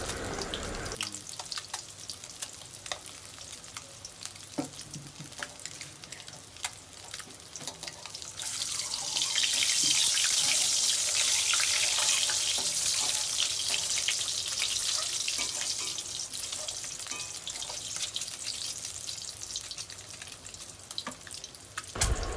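Eggs fry in oil with turmeric, a continuous sizzling hiss that swells louder in the middle and settles back, with occasional clicks and stirring.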